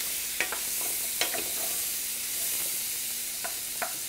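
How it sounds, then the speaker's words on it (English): A spoon stirs onions in a hot pan under a steady, close sizzle of frying, with occasional soft scrapes and clacks against the pan. "Grab a spoon. Want to stir them around a little bit."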